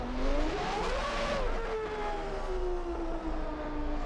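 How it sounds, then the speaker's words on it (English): A V10 Formula 1 engine of a Williams FW14 in a video game wails loudly and continuously, its pitch rising then sliding gradually downward, with no voices present. "Listen to this engine."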